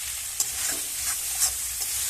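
Peas, carrots, capsicum and green chillies frying in a pan, a close, bright hissing sizzle with occasional light clicks of a spoon against the metal.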